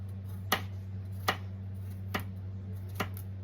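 A knife cuts butternut squash into even cubes on a board, giving four separate, sharp chops spaced almost a second apart over a low steady hum, with no talking.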